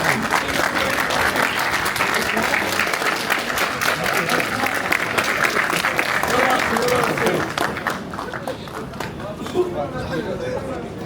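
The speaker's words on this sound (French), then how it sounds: "Mais t'as applaudi et tout" Crowd applause at a GLORY kickboxing event, dense continuous clapping mixed with crowd chatter that stays loud for several seconds, then thins and eases off, with voices talking nearby throughout.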